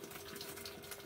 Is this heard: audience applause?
no